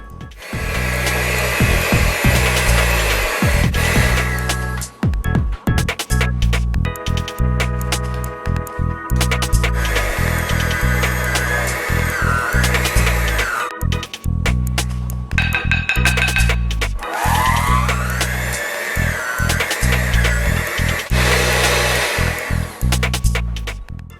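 A stand mixer drones loudly and steadily, labouring and dipping in pitch as dry ingredients are worked into stiff chocolate chip cookie dough in a bowl, with brief stops and restarts and no voices.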